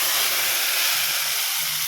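Hot oil tempering hits cooked dal in a pot, giving a dense, even hiss that holds steady for about two seconds with faint low bubbling beneath, no voices.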